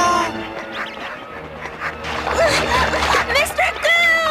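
In a cartoon, a fake duck call imitates a mallard quack, giving several nasal, honking quacks mixed in with excited cartoon voices.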